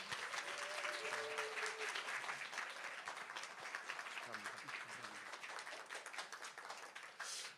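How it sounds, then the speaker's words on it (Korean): A Sunday worship congregation at Only Church bursts into sustained, dense applause to welcome a new member, a crowd-wide wash of clapping that runs steadily for several seconds under a brief voice before tapering off at the end. "여러분 큰 박수 주십시오."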